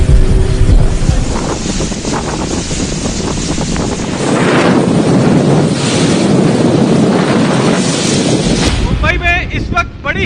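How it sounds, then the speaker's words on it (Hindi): Strong cyclone winds of Cyclone Nisarga roar steadily against the microphone with heavy buffeting and rushing surf-like noise, loud and continuous throughout, with a reporter's voice partly buried under the gusts. "बड़ी ही तेज हवाएं चल रही हैं"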